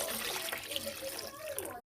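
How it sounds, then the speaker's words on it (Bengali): Water splashes and gurgles steadily into mashed boiled dal with a little turmeric in a cooking pot, close and continuous, then stops abruptly. "ঘেঁটে নিয়ে জল দিয়ে দিচ্ছি।"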